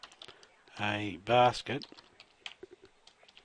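Computer keyboard keys tapped in quick, light clicks as a search is typed, close and fairly quiet, with a short stretch of talking partway through.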